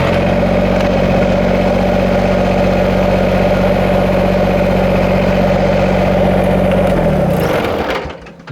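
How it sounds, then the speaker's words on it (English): Kubota BX compact tractor engine idling steadily while the front end loader is worked, a loud continuous close-up drone that drops away and cuts off near the end. "operating the front end loader on a Kubota BX"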